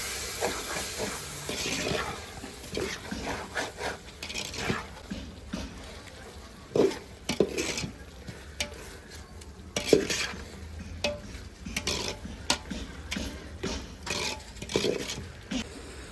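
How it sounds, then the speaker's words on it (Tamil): Prawn biryani being stirred in a cooking pot, with repeated scraping and clattering strokes over a steady sizzle and hiss of frying, close and moderately loud, with no talk. "இப்போ திறந்து நல்லா கலரி விட்டுக்கலாம்."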